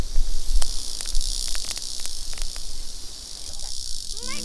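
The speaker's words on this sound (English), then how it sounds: "Thread into a coconut leaf, the cicadas are barely grilled on the little fire." Cicadas threaded on a coconut leaf grill over a small fire, giving a steady crackling hiss with scattered sharp pops and a loud, continuous insect-like buzz throughout.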